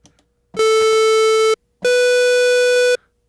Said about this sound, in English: let's hear some pulse width variation here in an upper register.